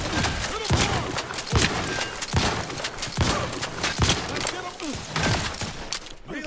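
Rapid bursts of gunfire in The Outer Worlds 2 video game, a string of sharp shots and thuds repeating steadily close up amid a busy game mix, with voices talking over parts of it.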